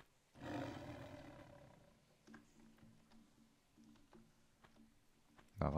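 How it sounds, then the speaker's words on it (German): Lion in Tomb Raider I Remastered gives one loud, close roar, then low growling grunts and scattered thuds follow more faintly, with no talk. "Kommen Sie her, Herr Löwe."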